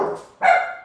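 Dogs bark nearby, one loud sharp bark ringing out after a softer earlier sound, all within a brief moment and with no talking.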